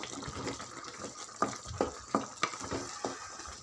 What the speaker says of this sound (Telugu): మధ్యలో ఇలా నొక్కుతూ కలిపితే బాగా మెత్తగా ఉడికిపోతాయి టమాటా ముక్కలు